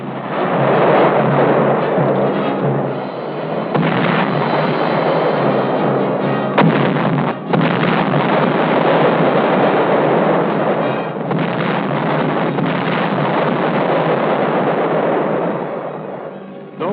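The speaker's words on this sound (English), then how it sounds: "Our artillery went into action." Artillery guns fire in a wartime battle during the Operation Dragoon invasion of southern France, a loud, dense roar of booming blasts rolling on continuously with no pauses, heard through limited-range archival sound.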